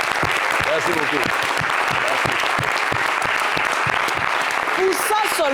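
Loud, dense audience applause from a studio crowd on an Ivorian television talk show, steady clapping throughout with some voices talking and calling out over it.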